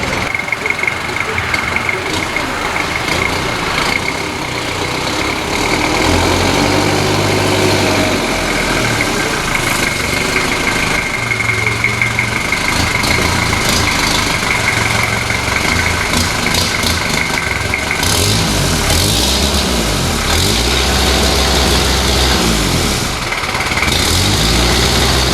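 A 1988 right-hand-drive Japanese-import Toyota Land Cruiser engine idles close by with a steady, even rumble that holds for the whole stretch and grows slightly fuller partway through, with no talk over it.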